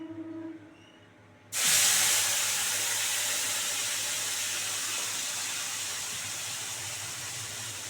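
Ground spice paste hits hot oil in a pan and sets off a sudden loud hiss after a quiet moment. The sizzle then holds steady and fades slowly, close and with no voices.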